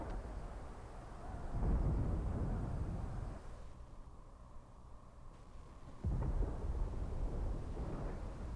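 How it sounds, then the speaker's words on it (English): A low, rolling rumble of thunder in the video game Final Fantasy XVI swells, fades into a quieter lull and then returns with a sudden heavy surge, alone without voices. "Sounds like thunder."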